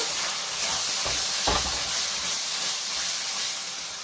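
Spices for a rohu fish curry fry in a pan over lowered gas, giving a continuous close steamy hiss and sizzle with a few brief stirring scrapes, no talking.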